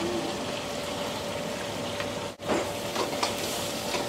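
Onion frying in butter in a pan for a restaurant-style green chilli chicken, a steady close sizzle and crackle that runs on, dips briefly, then resumes with scattered pops.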